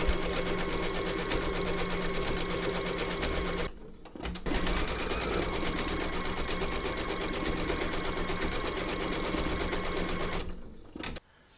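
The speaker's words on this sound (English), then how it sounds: "Load your thread colour for the white of the eyes into your machine and then stitch round number five" An embroidery machine stitches white thread for the eyes of a bunny design, a steady, fast mechanical whir running almost continuously with two brief pauses.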